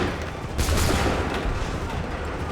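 Musket volley fire in Assassin's Creed III Remastered: a broad, sustained crackle of many guns going off together, with a stronger burst just past half a second and a dense rumbling wash under it throughout.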